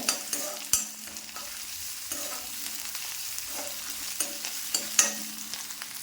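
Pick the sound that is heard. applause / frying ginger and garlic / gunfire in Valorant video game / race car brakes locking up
frying ginger and garlic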